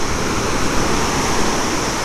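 Water pours through the gates of a canal near Galteshwar in Gujarat, a dense, steady rushing roar that stays loud and constant throughout, with no voices.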